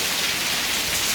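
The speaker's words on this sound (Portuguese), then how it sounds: "É. Chuva, papai." Heavy rain falling and pattering on surfaces nearby, a loud, dense, continuous hiss with no pauses and no voices.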